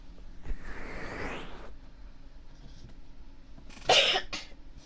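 Several coughs from a person close to the microphone, a throaty burst early on followed by quieter stretches, then a second harsh, loud cough cluster near the end.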